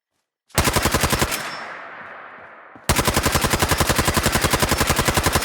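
A modded handmade rifle in Fallout 4 fires a loud, rapid automatic burst. A ringing echo decays for a moment, then a second sustained burst of fast rhythmic shots follows, close and without talking.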